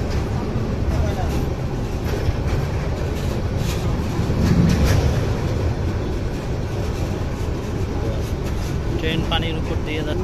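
Lalmoni Express train running over the Jamuna bridge above the river, a constant heavy rolling rumble of carriages that never lets up, with faint voices and rattling underneath.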